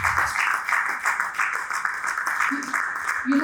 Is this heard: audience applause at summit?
yes